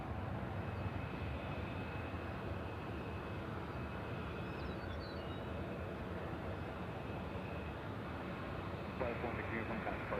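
A jet airliner departs Nashville International Airport with a steady, broad roar of engine noise heard from a distance, holding constant throughout.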